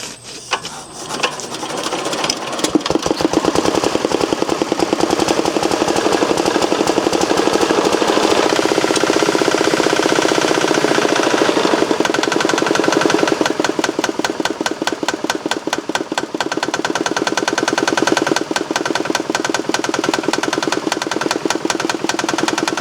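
A small Chinese diesel engine cranks and fires up after an injection pump repair, then runs with a steady, loud, rapid knocking clatter close by for the rest of the stretch.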